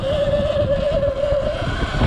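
A Sur-Ron X electric dirt bike in sport mode runs at top speed, giving a steady high-pitched motor whine over loud rushing wind noise, sustained and close throughout.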